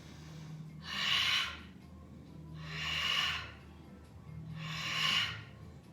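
During a Pilates mat workout, three forceful, breathy exhales come at an even pace about every two seconds, each a loud airy rush. Quiet background hum fills the gaps between them.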